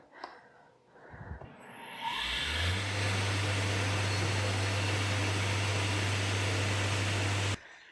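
A homemade CNC router starts up in a small woodworking shop, its motor spinning up after a few clicks into a loud, steady drone that holds for several seconds before cutting off abruptly.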